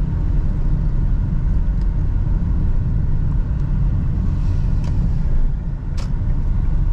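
A Hyundai Accent CRDi diesel engine with manual gearbox idles with a loud, steady, close rumble as its revs settle lower, with no talking.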